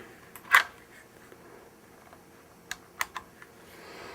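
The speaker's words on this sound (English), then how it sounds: "the disassembly process starts with locking the bolt back to the rear" The bolt of a Ruger 10/22 rifle is pulled and locked back to the rear, giving a sharp close metallic click followed a few seconds later by a couple of smaller clicks in a quiet room.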